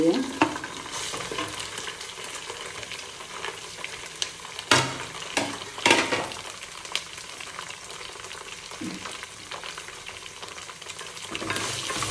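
Mango-ginger and garlic frying for a homemade pickle, a steady close sizzle with scattered stirring clatters and scrapes of a spoon in the pan, no voices.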